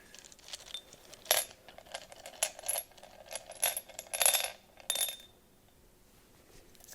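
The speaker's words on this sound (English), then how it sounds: "when I open the pouch, I can disperse the dice" Small plastic tabletop dice poured from a pouch for a Dungeons & Dragons game, clattering and clicking in several close, soft bursts over a few seconds before falling quiet.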